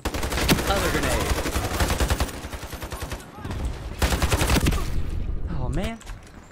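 Grenade blasts and gunfire in the online shooter Ironsight, with dense bursts of automatic fire and explosions for most of the stretch before it thins out, and a player's voice heard over the combat.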